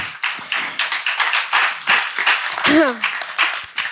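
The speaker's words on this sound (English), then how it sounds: "Let's give a big round of applause." Audience at a startup demo day clapping after a pitch, a close cluster of hand claps in uneven bursts with a voice briefly cutting through midway.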